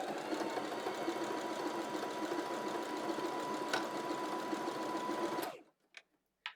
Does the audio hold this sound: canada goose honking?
no